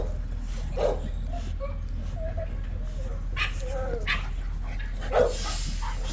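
Dogs bark and whimper, with a few yips and whines scattered over a steady low hum outdoors. They are moderately near, with a couple of louder barks standing out.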